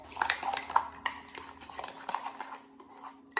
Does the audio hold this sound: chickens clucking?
no